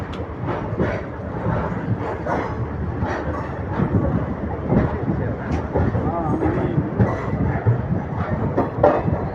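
Train standing at platform 2 of the large Dindigul junction, with steady rail and carriage rumble, faint clattering and a busy crowd talking throughout.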